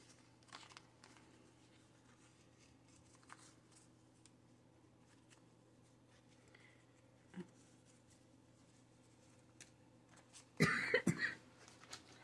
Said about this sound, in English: excuse me if I continue to cough like this